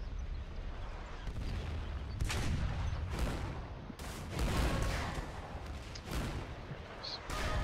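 Repeated booming artillery cannon blasts in the game Foxhole, bursts landing every second or so under a steady rumble, with voices talking over them.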